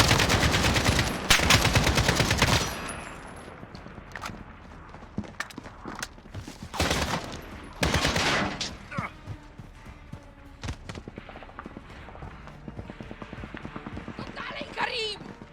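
Bursts of rapid gunfire in the video game Call of Duty: Modern Warfare (2019) erupt in several loud volleys, with quieter stretches between and speech mixed in.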